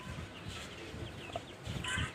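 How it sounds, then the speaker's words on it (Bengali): Young fancy chickens, including a Brahma chick, cluck and chirp softly in a loft, a few faint, close calls over low background noise. "এক জোড়া ফেন্সি মুরগির বাচ্চা আনছি আমি, এক জোড়া সরালি আর একটা ব্রাহ্মা"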